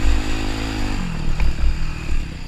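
A dirt motorcycle engine idles and blips near a big jump, with a short rev burst and some clattering, close and fairly loud, with no voices.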